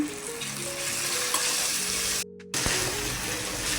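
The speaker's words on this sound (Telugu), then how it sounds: "అలా కొద్దిగా పసుపు, టమాటాలు" Onions, turmeric and tomatoes frying in a pan for an Andhra oil-brinjal curry, a steady loud sizzle with light stirring that cuts out abruptly for a moment before the hiss resumes.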